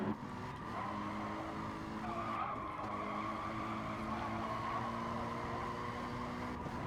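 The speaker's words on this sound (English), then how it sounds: "Just listen to those tyres grip" GT race car tyres squealing for grip through a corner at Catalunya, a sustained moderately loud screech over engine drone, heard at a distance with no one speaking.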